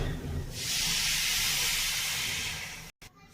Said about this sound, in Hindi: अब हम यहीं पर थोड़ा सा डालेंगे पानी।